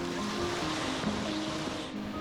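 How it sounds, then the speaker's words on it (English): Ocean waves crashing on a beach, a continuous broadband wash of surf with a faint wind rumble, steady and moderately loud throughout. "Staring out at the crashing waves on the beach."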